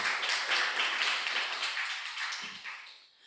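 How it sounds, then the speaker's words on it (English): Audience applause for a Permanent Secretary at a youth agrifood systems event, a dense steady wash of many hands clapping that slowly thins and fades near the end. "another round of applause to the Honorable Permanent Secretary"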